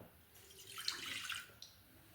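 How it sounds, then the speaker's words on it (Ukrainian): Warm milk pours into a mixing bowl while making a Turkish family pie dough, a soft splashing, trickling stream that swells and fades over about two seconds, quiet and close. "У миску виливаю молоко"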